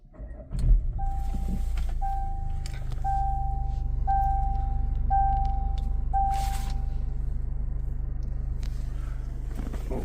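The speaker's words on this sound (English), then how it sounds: "I'm gonna start the vehicle." A Jaguar Land Rover F-Pace starts with a brief cranking surge, then settles into a low steady idle, while a series of regular electronic chimes rings over it in the cabin.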